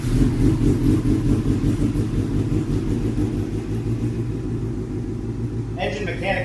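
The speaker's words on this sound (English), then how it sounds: "Engine mechanically sounds stock." Race motorcycle engine running during tuning, a steady low rumble and drone held throughout with no clear revving, and a voice briefly coming in near the end.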